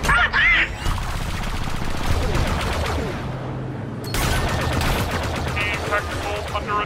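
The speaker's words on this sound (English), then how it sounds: "Opening fire." Dense blaster and cannon fire from starships in the Star Wars Battlefront II video game, a loud continuous barrage of rapid shots and bursts with a brief lull midway, mixed with game voice chatter.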